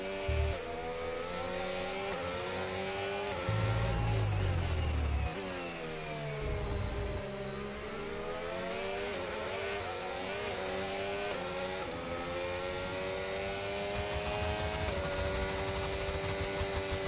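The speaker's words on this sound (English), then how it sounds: "You just heard that revving there." An F1 25 race car in the video game revs hard as it spins out, its engine note climbing and falling in loud, continuous sweeps with a deep rumble near the start.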